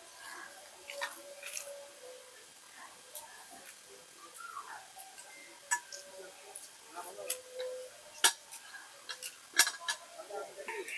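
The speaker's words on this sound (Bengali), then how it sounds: "এবার আমি ডিমটার খোসা ছাড়িয়ে নেব।" Shell being peeled off a boiled egg by hand, heard close up as scattered small crackles, taps and crisp clicks that come in uneven bursts, faint between the sharper snaps.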